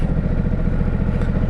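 A Ducati 950 Multistrada motorcycle idling with the 1200 Enduro exhaust, a loud close, steady low throbbing engine rumble with a slightly uneven pulse.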